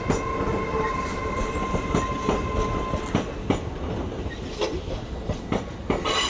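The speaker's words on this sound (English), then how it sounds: "Off goes the 1200 cross-country service from Reading through to York." A CrossCountry passenger train bound from Reading to York pulls away from a main-line station at Doncaster, its steady rumble and wheel clatter running throughout at moderate distance, with a faint whistle-like tone early and sharper rail clicks later.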